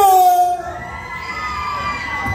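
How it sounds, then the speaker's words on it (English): A hypnotized audience at a county fair hypnosis show shrieks and shouts together like riders on a roller coaster drop, a loud sustained crowd scream that swells and fades, with a voice over it at first. "You're going to throw your hands up. You're going to scream."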